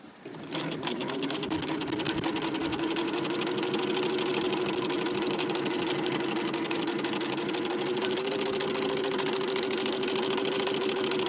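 A Singer 15-125 straight-stitch sewing machine runs steadily while stitching heavyweight leather, a close, continuous mechanical whir that holds unbroken for the whole stretch with no talking.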